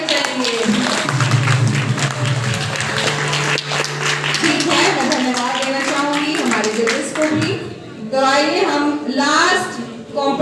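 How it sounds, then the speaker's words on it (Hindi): Loud applause for the judges at a televised competition show, clapping rising under a presenter's voice and persisting while music and singing take over. "हमारे जजेस के लिए जोरदार ताली"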